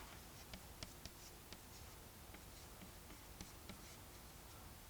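Chalk or marker strokes on a lecture board make faint, sparse ticks and scratches, irregular taps scattered over a quiet room hiss.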